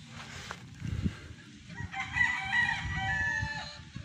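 A Sweater-bloodline gamefowl rooster crowing on a game farm, one drawn-out crow rising clearly out of the background with clucks and rustling around it, no talk.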